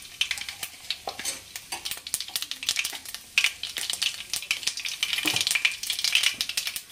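Mustard and cumin seeds sizzle and pop in hot oil in a pan, with sharp crackles and bursts spread through the whole stretch and occasional utensil scrapes, close up and without talking.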